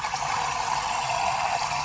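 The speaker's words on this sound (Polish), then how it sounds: "O, słyszycie? To samo się napełnia, więc pies ma cały czas dostęp do wody." A self-filling dog water bowl refills on its own, a steady close rushing and trickling of water with a faint mechanical whir running continuously and evenly throughout.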